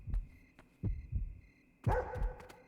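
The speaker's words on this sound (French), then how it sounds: "Par contre, j'aime pas ces battements de cœur." Heartbeat effect from the horror game Yomawari: Night Alone: soft paired thumps repeating in a slow, uneven rhythm under a faint tonal hum, quiet and with no talk.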